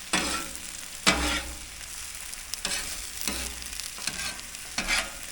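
Spinach sizzles on a flat-top griddle as a spatula stirs and scrapes it, steady frying hiss broken by several sharp scraping strokes at a close, moderate level, without talk.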